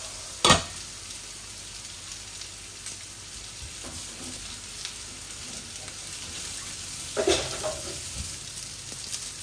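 Boiled beef lung and liver fry in a pan with a steady low sizzle, broken by a few sharp stirring knocks near the start and later.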